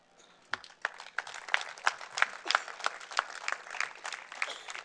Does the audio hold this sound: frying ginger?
no